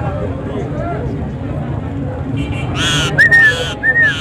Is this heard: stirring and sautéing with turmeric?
no